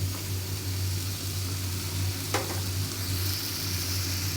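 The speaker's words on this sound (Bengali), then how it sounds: "তো ভালো করে একটু কষাই নিয়ে তারপর আমি ঝোলটা দিয়ে দেবো।" Eggplant and tomato curry frying in a pan, a steady close sizzle with occasional stirring scrapes throughout, a brief clatter midway, no voices.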